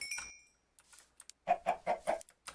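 A Minecraft chicken gives a quick run of four or five soft, clipped clucks in a row, preceded by faint game noises and a brief tinkling chime.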